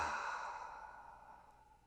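A single slow, deep exhale during a guided breathing meditation, close and soft, fading gradually over about two seconds with no talk.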